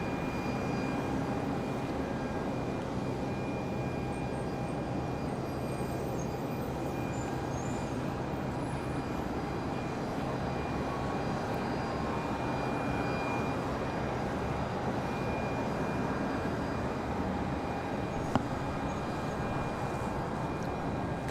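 A jet airliner touches down on the runway at Charlotte Douglas airport, heard from a distance as a steady windy roar of engines and rushing air lasting the whole stretch, with no talking.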